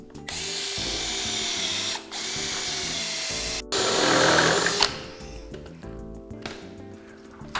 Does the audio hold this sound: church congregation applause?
no